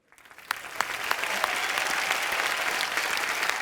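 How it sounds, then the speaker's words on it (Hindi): Audience applause at an inauguration in a comedy show, starting with a few scattered claps and swelling within a second into steady, dense clapping from a crowd. "उद्घाटन का ताली बजाओ।"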